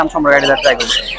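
At a bird market in Fatullah, Bangladesh, birds give a quick burst of loud, close, pitch-bending squawks and chirps, several overlapping calls in about a second.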